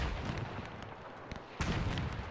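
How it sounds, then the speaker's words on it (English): Artillery shells land in a WW1 trench battle in the video game Between Empires, a muffled barrage of booms and crackling impacts over a noisy din, with a louder blast near the end. "I see a lot of fire landing around here."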